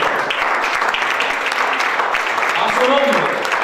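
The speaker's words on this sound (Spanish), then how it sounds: "Un aplauso para Dios" A church congregation breaks into sustained applause during a sermon, a dense wash of clapping with cheers and voices mixed in throughout.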